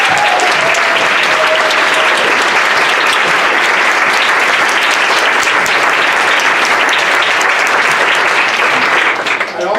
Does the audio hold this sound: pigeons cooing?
no